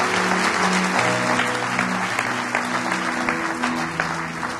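A church congregation applauds steadily throughout, a dense, loud wash of clapping with sustained musical tones underneath.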